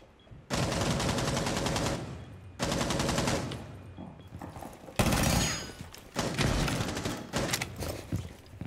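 Gunfire from Rainbow Six Siege comes in dense, loud automatic bursts, several seconds each, separated by short pauses, close and harsh with rattling impacts, and no talk over it.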